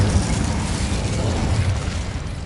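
An Incendio fire spell in Hogwarts Legacy roaring out as a loud, continuous rumbling whoosh of flame with heavy low booming throughout.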